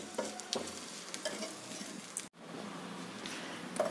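Coconut, onion and chili powder frying together in a pan for a village-style curry, a low crackling sizzle with occasional stirring clicks, steady and close with no talking.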